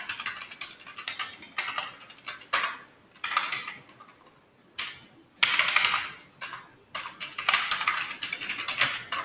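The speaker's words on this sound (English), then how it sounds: "I'm just typing some random information" Fingers tap rapidly on a computer keyboard in uneven bursts with short pauses between them, close and clear, with no speech.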